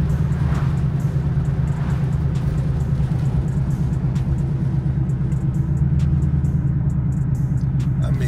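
A new Ford Mustang idles with a deep, steady rumbling exhaust, loud and close with an even, throbbing pulse throughout and no talk.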